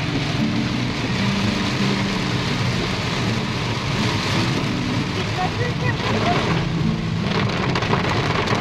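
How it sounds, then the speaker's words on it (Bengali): Heavy monsoon rain falls at Amboli Ghat in Maharashtra as a dense, constant roar of drops on surfaces, with low rumbles beneath and a few faint voices mixed in. "এত বৃষ্টি হচ্ছে কিচ্ছু দেখা যাচ্ছে না"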